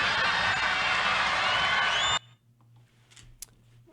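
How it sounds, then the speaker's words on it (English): Crowd cheering, whooping and applauding loudly for about two seconds before cutting off abruptly into near silence with faint scattered sounds. "Cheers and applause."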